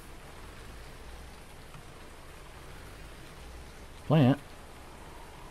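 Rain in Farming Simulator 19 on a field near a parked tractor, a steady soft hiss of falling rain throughout, with one brief spoken word near the end.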